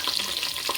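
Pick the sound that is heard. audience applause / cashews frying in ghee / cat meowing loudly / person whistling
cashews frying in ghee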